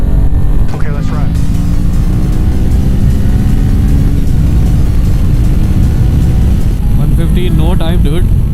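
A motorcycle ride with a steady, loud engine drone and heavy wind rush throughout, with brief voices breaking through near the start and end.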